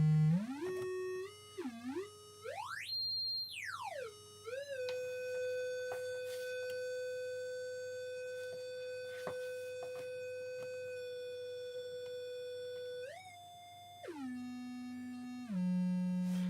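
A cheap soldered XR2206 oscillator kit outputs a triangle-wave tone that sweeps up and down in pitch, then holds a steady note for several seconds before stepping down again. The tone is continuous and clean, with no voices.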